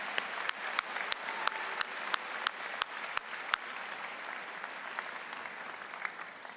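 Audience at a spring convocation ceremony applauding, a moderate spread of clapping with a few sharp, close individual claps standing out, sustained throughout at a fairly soft overall level.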